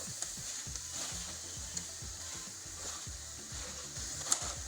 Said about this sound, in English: to deglaze our pan